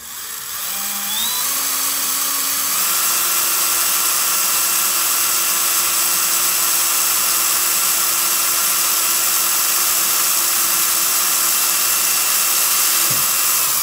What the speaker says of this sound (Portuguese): Pronto, já furei.